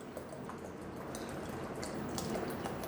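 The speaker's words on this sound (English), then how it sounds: "So for this 700 ml, add 300 ml of distilled water" Distilled water pours into isopropyl alcohol, a soft continuous liquid trickle and splash heard faintly and close, with no voices.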